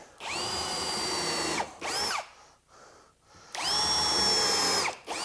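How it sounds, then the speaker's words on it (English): A power drill drives screws into a sink base cabinet in two long whining bursts, each rising to speed, with shorter spins and quiet pauses between them. The sound is close and clear. "We are going to put in a few screws."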